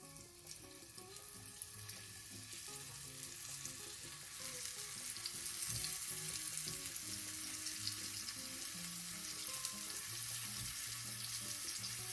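Floured beef pieces fry in a pan with a steady, close sizzle that swells and grows brighter after being added, joined by occasional stirring clatter and a low musical backing.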